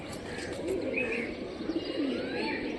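A pigeon coos softly in short low bursts, close by in open outdoor air, with faint chirps and background hiss around it.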